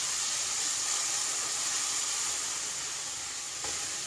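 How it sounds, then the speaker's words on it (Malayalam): Boiling water hitting a hot pan of masala pasta gravy, giving a steady loud steamy hiss and sizzle that eases slightly toward the end, close by with no talking. "തിളച്ച വെള്ളമാണ് ഞാൻ ഒഴിച്ചു കൊടുക്കുന്നത് കേട്ടോ."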